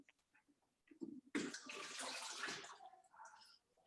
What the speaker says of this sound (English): I'm just going to quickly rinse that.